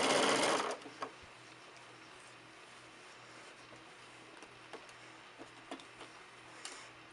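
A sewing machine stitches a pinned fabric seam in a short loud burst, then sits nearly quiet with scattered faint ticks and clicks.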